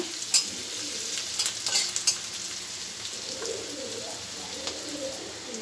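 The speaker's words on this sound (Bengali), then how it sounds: "আর একবার নেড়ে দেবো বন্ধুরা" Singara (samosa) filling stirred in a hot pan, a steady scraping sizzle running throughout at close range, with faint bird cooing in the background.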